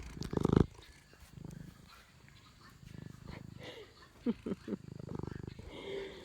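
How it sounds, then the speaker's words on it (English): A cat's low, rumbling purr pulses in short bursts close by, with a loud thump at the start and a few brief sharp sounds. "Can you all hear him purring?"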